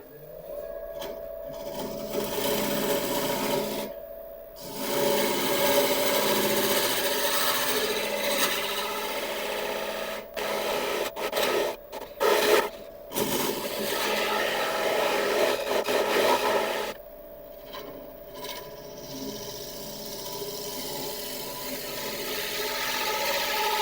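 A scraper shapes a turned mallee burl on a spinning lathe, a steady close rasping hiss broken by several short pauses as the tool lifts off and bites again.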